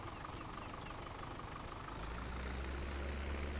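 A tractor engine idles in Farming Simulator 17, a steady low mechanical rumble that thickens and deepens partway through, continuous and close with no talk.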